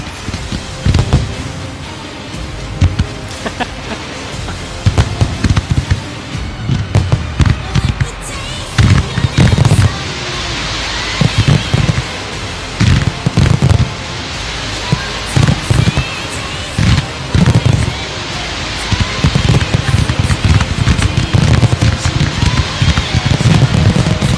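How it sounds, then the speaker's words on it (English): Giuliani Fireworks go off in a dense, loud barrage of pops, crackles and booms that barely pause for the whole stretch, with voices talking faintly under the bursts. "From Giuliani Fireworks."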